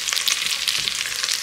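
Cauliflower florets drop into a pan of fried onion with loud, steady sizzling and crackling from the hot fat. Light stirring scrapes sound close up, and no one speaks.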